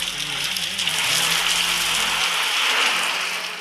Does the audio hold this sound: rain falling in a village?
yes